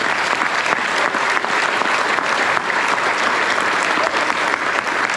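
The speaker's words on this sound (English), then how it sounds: "give everyone a round of applause for being here today." Audience applause at a farming panel on farming with family, a dense steady roar of many hands clapping, loud and sustained without a break.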